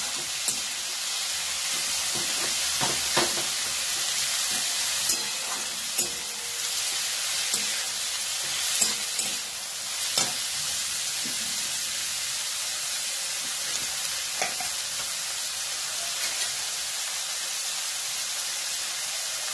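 Toor dal fries in a hot pan with a steady, even sizzle, broken by scattered scraping clicks as it is stirred, with no talking.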